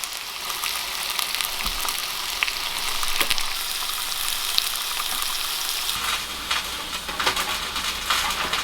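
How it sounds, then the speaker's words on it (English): Bear steaks sizzle and fry in a pan on a stove, a steady loud hiss with crackling pops throughout, close by and with no talking. "Just got some bear steaks sizzling on the pan over here"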